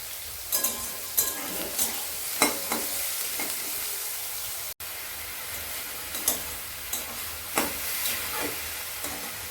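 Eggplant pieces fry in a pan with a steady high sizzle, broken by repeated scraping stirs at irregular intervals; close and moderately loud, with no voices.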